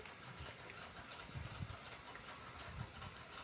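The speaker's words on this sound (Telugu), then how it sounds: "ఆయిల్ వేడయ్యాక ఇలా ముందుగా కట్ చేసుకొని పెట్టుకున్న కాకరకాయ పీసెస్ని అయితే నేను నూనెలో వేయించుకుంటున్నాను" Bitter gourd pieces frying in hot oil give a faint, steady hiss with soft low crackles throughout.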